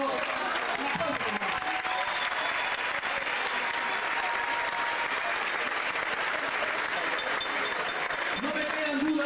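A crowd at a dance group competition applauds loudly and without a break, a thick wash of clapping that holds steady throughout, with a voice briefly audible underneath.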